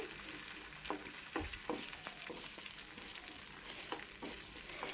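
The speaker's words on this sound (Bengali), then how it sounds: "তো আমি এখানে ডিমটাকে ভেজে নিচ্ছি" Egg fries and gets scrambled in a pan with a soft, steady sizzle, punctuated by frequent light taps and scrapes of a spatula.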